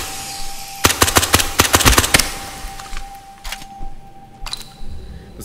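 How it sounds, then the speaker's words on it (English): Non-suppressed full-auto rifle with a 40-round magazine firing in the zombie video game Dead Fury: a rapid burst of sharp, loud shots, then a few scattered single cracks and a faint steady tone. "this version of the gun, which has a 40 mount round clip, is not suppressed, and is full auto"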